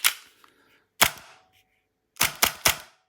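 Tokyo Marui V10 1911 ultra compact airsoft pistol with a plastic slide, dry firing: loud, sharp snapping clacks, one early, one at about a second, then a quick burst of three.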